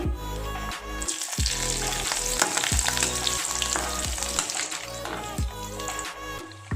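Turmeric and green chillies frying in hot oil for masala upma, a loud, steady sizzle throughout with repeated low thuds and scrapes of stirring in the pan.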